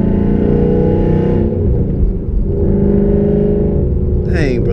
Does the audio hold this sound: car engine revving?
yes